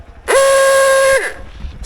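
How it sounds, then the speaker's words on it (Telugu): A new off-road motorcycle's horn gives one loud, close, steady honk lasting about a second, with faint background noise before and after. "ఓకే ఒకసారి ఫస్ట్ హార్న్ చూపిద్దాం ఒకసారి."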